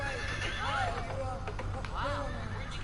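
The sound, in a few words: horse neighing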